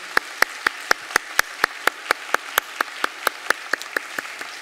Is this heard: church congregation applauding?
yes